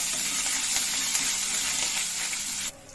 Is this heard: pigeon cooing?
no